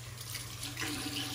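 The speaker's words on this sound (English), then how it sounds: "We're still gonna keep adding water because, you know, we're not at 10 minutes yet, so that's the aim." Water runs steadily from a tap while shaving soap is lathered, a brief, even hiss of flowing water at modest volume.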